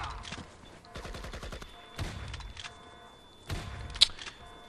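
Bursts of gunfire from the video game Project IGI, with rapid rattling volleys and several sharp individual shots spread across the moment, moderately loud with quieter gaps between.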